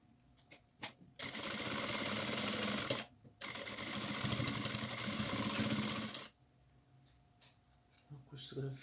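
Sewing machine stitching fabric for a wallet, a one-centimetre seam along the edge, running in two sustained loud bursts of rapid needle chatter with a short pause between, quiet handling clicks before and after.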